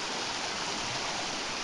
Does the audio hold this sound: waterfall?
yes